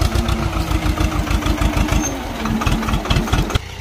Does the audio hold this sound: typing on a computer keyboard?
no